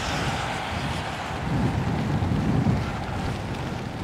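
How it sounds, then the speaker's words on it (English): Strong wind buffets the microphone on a night street in Blackpool's North Shore, a loud continuous rumbling roar that swells slightly midway, with no speech. "I'm having to battle the wind here."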